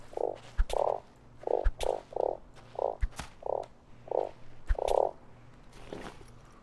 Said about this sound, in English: Oh, another frog, I hear it.